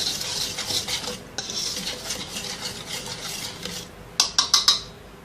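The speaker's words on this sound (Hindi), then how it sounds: "सारे खुश्क अज्जा को मिक्स कर लेंगे।" A spoon stirs dry ingredients, powdered milk and salt, in a bowl, a steady scraping swirl near and close, ending in a few quick clinks against the bowl's rim.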